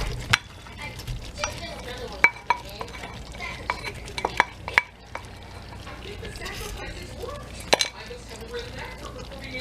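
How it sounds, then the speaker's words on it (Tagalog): Meatballs being stirred in a frying pan: a steady sizzle under repeated sharp clinks and scrapes of a utensil against the pan, close and fairly loud. "ilagay na natin ang meatballs"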